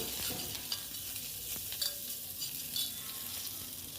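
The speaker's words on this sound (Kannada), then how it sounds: "ಕರ್ಬೇವಿನ ಸೊಪ್ಪು ಹಾಕೋತಾ ಇದ್ದೀನಿ ಇಲ್ಲಿ." Curry leaves tossed into hot oil with red and green chillies for a tempering crackle and sizzle up close, a continuous hiss with scattered sharp pops and stirring.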